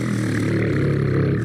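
A man imitates a semi-truck engine with his voice, producing a steady, loud, buzzing growl that holds for about a second and a half.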